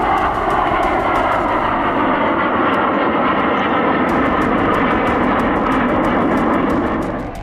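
Indian Air Force fighter jets roar low over the Purvanchal Expressway during a touch-and-go display, a loud, continuous engine rumble and whoosh that fills the whole stretch and fades slightly at the end.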